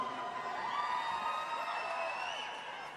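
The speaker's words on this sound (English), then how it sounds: "Because he's just talking and they're all clapping and cheering" A large concert audience at the Royal Albert Hall cheers, whoops and claps steadily in a broad, slightly distant roar during a live performance.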